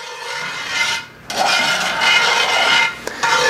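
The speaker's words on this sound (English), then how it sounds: "So we're going to drop some beef stock in there, stir this around." A utensil scrapes and rubs steadily across a hot pan as beef stock is stirred in for a steak pan sauce, with sizzling underneath, close and fairly loud, broken by a couple of brief pauses.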